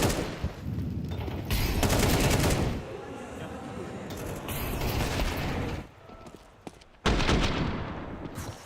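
AK-47 gunfire in a Counter-Strike match, rapid rattling bursts of automatic fire mixed with game effects, loud and dense, with a caster talking over parts of it.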